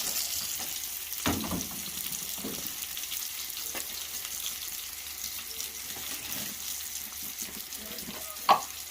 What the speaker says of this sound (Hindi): उसमें मैंने ऑयलिंग घी लगा लिया हल्का हल्का और इस पर बर्गर अपने गरम कर रही हूँ